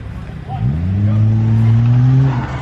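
Toyota JZX110 launching hard on a motorkhana track, engine revving up in a rising whine as tires squeal loudly, close and sustained for a couple of seconds.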